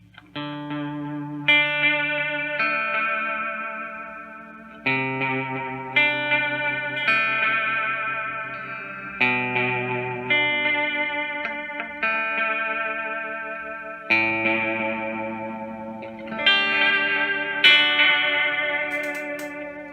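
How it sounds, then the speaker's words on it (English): Toronto City Transit Delay Deluxe guitar pedal with its LFO modulation giving a warbling chorus on a clean, reverberant guitar playing repeated chords and arpeggios, steady and close for the whole stretch with no talking. "At slower settings and higher depth settings, you can sort of get full chorus tones."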